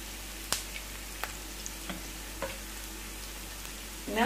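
Soft sizzling from a pan of onion gently frying, with a few sharp clicks and crackles, steady low hiss throughout, no talking.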